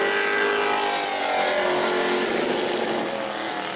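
Sportsman race car on a qualifying lap at New Smyrna, a loud sustained engine roar that holds steady and then eases slightly near the end, with no voices.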